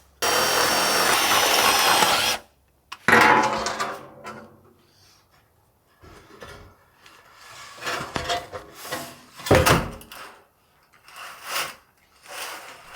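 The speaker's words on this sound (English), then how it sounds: "I'd never tried a jigsaw with the metal cutting blade" A jigsaw fitted with a metal-cutting blade cuts metal roofing for an off-grid outhouse in Alaska, giving one loud, harsh burst of about two seconds. Scattered handling clatter and thumps of the panel and tools follow, with no talk.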